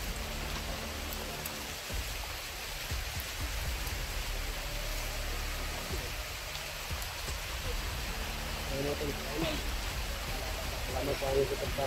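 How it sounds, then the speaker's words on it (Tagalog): Heavy rain pouring down in a steady hiss of drops hitting surfaces, constant and loud throughout, with faint low rumbles and brief murmuring voices near the end. "sobrang lakas talaga yung ulan, no?"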